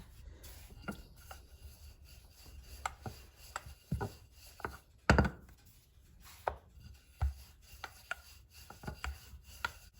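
A rolling pin working dal puri dough on a board gives faint, scattered soft knocks and rubbing strokes, with short gaps and no talking.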